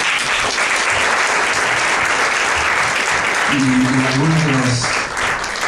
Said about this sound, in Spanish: por quien también pido un aplauso